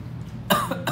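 One short, sharp cough bursts out at close range, with a second fainter cough right after and a quiet room behind it.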